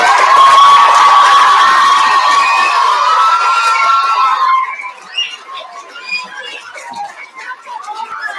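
Children at a school student recognition ceremony break into loud applause and cheering, a bright burst of clapping and shouts that fades after about five seconds into scattered claps and voices.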